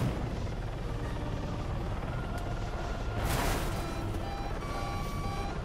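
Loud continuous whirring of a helicopter engine in the video game ArmA 3, with a brief rising roar and crackle midway as the rotor fails, steady and close throughout.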